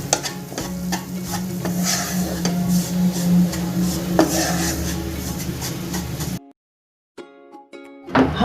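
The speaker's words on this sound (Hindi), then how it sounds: "बेसन को भी हम गोल्डन ब्राउन होने तक भून लेंगे।" Gram flour roasting in hot ghee in a pan, stirred steadily with a spoon scraping the metal, a continuous sizzle and scrape running close and loud before cutting out to near silence with a few faint clinks at the end.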